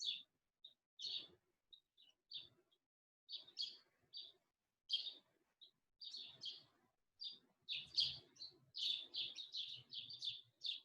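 Small birds chirp and tweet in short, repeated bursts from the grass, close and clear, with quiet gaps between calls and a few bursts of faint low rustling.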